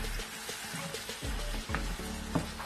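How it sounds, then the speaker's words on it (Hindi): Ojri (tripe) frying in oil over a full flame, with a steady sizzle and occasional stirring scrapes and clicks, close and moderately quiet. "इसको आपको बहुत अच्छे तरीके से भूनना है।"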